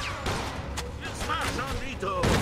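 Rapid bursts of gunfire in the Mafia 2 video game, a series of sharp shots rattling over a busy game soundtrack, close and loud.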